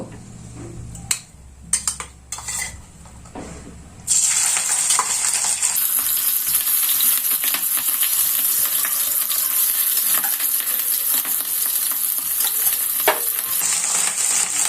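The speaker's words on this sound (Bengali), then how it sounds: "এবার আমি কড়াইতে 3 থেকে 4 চামচ মতো সাদা তেল দেব চিংড়ি মাছটা ভাজার জন্য।" Shrimp hit hot white oil in a wok: a few sharp clicks and clatters, then an abrupt, loud, sustained sizzle that continues steadily to the end.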